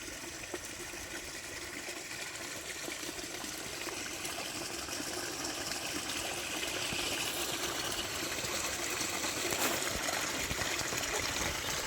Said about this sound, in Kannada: ನಮ್ಮೂರು ಮಿನಿ ಫಾಲ್ಸ್ ಮಳೆ ತುಂಬ ಆದ ಕಾರಣ ಈಗೀಗ ನೀರು ಬರ್ತಾ ಇದೆ ನಮ್ಮ ಪಾಲ್ಸಲ್ಲಿ